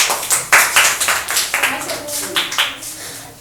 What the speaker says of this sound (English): Clapping for Akash